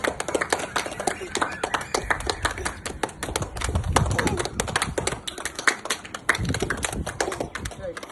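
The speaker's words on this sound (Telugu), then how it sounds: "Continue claps." A young boy of about five claps his hands continuously during a gymnastics and martial arts training session, a steady rapid run of sharp taps at close range over other voices in the room.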